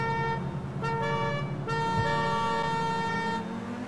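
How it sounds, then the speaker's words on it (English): A car horn honks in three sustained blasts, loud and close, with a brief gap between each over a low engine rumble. "here we go on the third honk"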